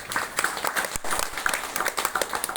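An audience claps at a religious discourse held at a temple, the applause steady and moderately loud with dense, overlapping hand claps for a couple of seconds.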